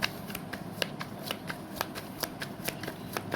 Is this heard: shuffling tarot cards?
yes